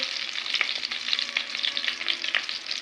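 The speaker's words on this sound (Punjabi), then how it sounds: "ਹੁਣ ਜੀ ਆਪਾਂ ਇਹਦੇ ਵਿੱਚ ਪਾਵਾਂਗੇ ਆਪਣਾ ਜੀਰਾ ਇਹ ਦੇਖੋ ਜੀ ਹਲਕਾ ਜਿਹਾ ਆਪਾਂ ਜੀਰੇ ਨੂੰ ਭੁੰਨਾਂਗੇ" Cumin seeds roast in hot oil with a bright, constant crackling sizzle close by, dotted with small pops and a few light stirring scrapes.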